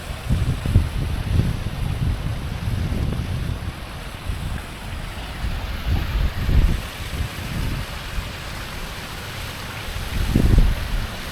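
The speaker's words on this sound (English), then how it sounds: "Every time you hear that water flowing" Steady rushing artesian water flows continuously with a broad hiss in Prattville, Alabama, overlaid by low wind rumble and occasional louder surges.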